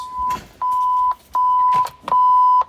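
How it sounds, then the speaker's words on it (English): Four steady electronic beeps from a GPS unit on a 2021 Regal 26 XO boat, each about half a second long, evenly spaced with brief gaps, loud and close with a faint rumble underneath. "It's just the beeping for the GPS."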